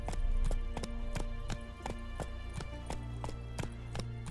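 Roach the horse gallops in The Witcher 3: Wild Hunt, hooves clip-clopping in a steady rhythm of sharp, close thuds over a constant low rumble of game ambience and music.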